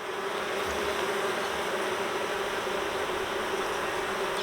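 Honey bees from an open Layens beehive buzz steadily at close range, a dense continuous drone of many wings that holds at an even loudness throughout, with no voices.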